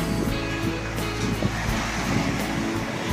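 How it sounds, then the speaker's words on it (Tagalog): A dense, continuous roar of surf with heavy low rumble and wind buffeting the microphone, loud and unbroken throughout. "Lakas ang alon dito."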